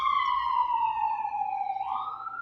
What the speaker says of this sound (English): Let me wait until a police car passes.